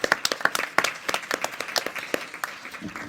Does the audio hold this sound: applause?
yes